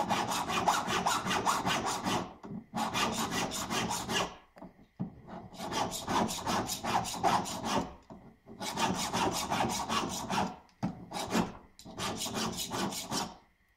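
A hand file rasps back and forth over a metal ring in long, steady strokes. The bursts of scraping are loud and close, separated by brief pauses.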